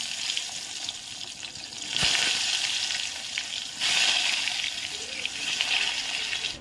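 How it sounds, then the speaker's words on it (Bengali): Brinjal (eggplant) slices fry in a pan with a steady, soft sizzle and crackle, rising in brief louder surges, close by and with no talk. "এখানে বেগুন ভাজাটা বসিয়ে দিয়ে চাটা দিয়ে এসে তারপর আবার বাকি কাজে"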